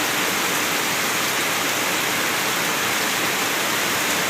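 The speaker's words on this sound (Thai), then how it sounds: "ฝนตกพี่น้องฝนตก ฝนมาแล้ว" Dense, steady rain falls everywhere without a break, loud and close, a constant wash of noise with no voices.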